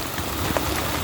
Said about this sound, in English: it is raining pretty darn good